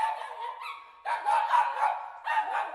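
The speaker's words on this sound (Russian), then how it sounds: "Я проснулся от лая соседской собачки." A small neighbour's dog barks in quick bursts of yaps, one burst early and a louder flurry after a brief pause, fairly close and with no talk over it.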